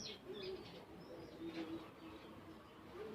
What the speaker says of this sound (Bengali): তো দেখতে পাচ্ছেন এই যে এখানে একজোড়া কবুতর আছে এখানে।